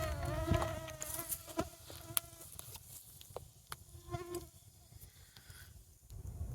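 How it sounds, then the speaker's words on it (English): Mosquitoes and other insects buzz and whine close by in Ohio woods, a wavering high drone that drifts in and out over quiet outdoor ambience with a few soft knocks, and no voices. "Mosquitoes are horrible."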